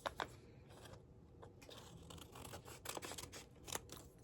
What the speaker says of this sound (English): Cut them down with my scissors.